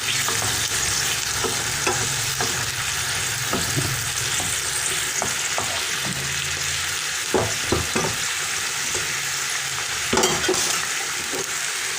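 Guinea sorrel sauce with water being stirred in a cooking pot, with a steady loud sizzle and bubbling under occasional scraping strokes of the spoon, continuous and close.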